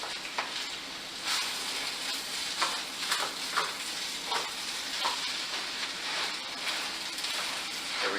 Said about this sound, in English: I'm going to stir it just a little bit longer